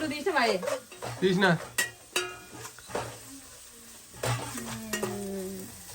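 Sliced onion sizzles in a hot pan for a Telugu chicken curry while a spoon scrapes and stirs it in short strokes. A voice carries faintly in the background, with the frying hiss steady underneath.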